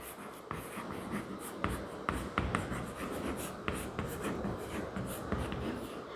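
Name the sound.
writing working notes with pen on paper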